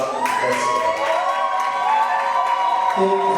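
A loud, continuous crowd roar of cheering and shouting at an awards ceremony as a revelation-of-the-year winner is announced, with excited voices and some clapping mixed in.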